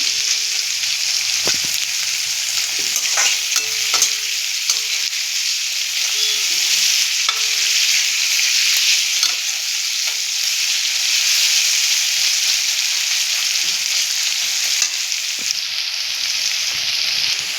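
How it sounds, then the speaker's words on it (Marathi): Chopped onion fries over a high flame for a green chicken curry, giving a loud, steady sizzle throughout with occasional soft stirring scrapes and no talking. "आता याला चांगलं आपण लाल होईपर्यंत फ्राय करून घेऊया कांदा. फास्ट गॅसवर याला चांगलं लाल होईपर्यंत"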